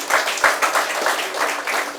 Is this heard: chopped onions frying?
no